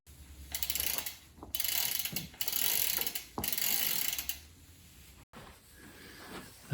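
Bicycle crank arms fitted with Speedplay Powrlink power-meter pedals being turned by hand, giving a run of ratcheting, clicking mechanical whirs in bursts separated by brief pauses, close and clear with no talk.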